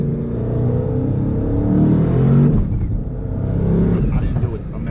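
A twin-turbo Hellcat engine with a dog box transmission revs and surges through quick gear shifts, loud and close from inside the car, the tone rising and dipping with each change, with occasional voices over it.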